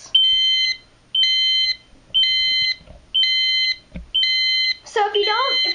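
A Silent Knight 5230 fire alarm annunciator sounds in alarm: five evenly spaced, loud electronic beeps about a second apart, each a steady high tone, followed by a burst of warbling chirps at the end.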